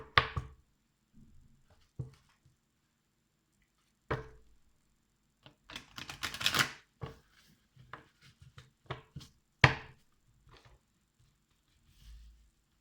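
Tarot cards shuffled by hand in a quiet room: scattered soft riffles and taps, with a denser burst of rustling midway and a few sharp card slaps, close and fairly quiet.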